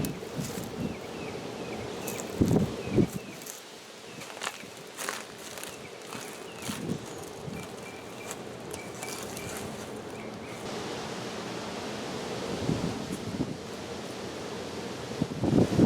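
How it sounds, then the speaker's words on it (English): Gusty wind blows across an outdoor garden, a steady broadband rush with louder surges, joined by scattered footsteps and light knocks of work nearby; no one speaks. "Man, it is so windy out here."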